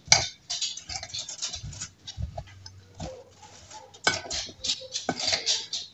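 Ingredients are stirred and mixed in a full dish, with scraping and clinking of a utensil against the dish in irregular bursts and some quieter gaps between them.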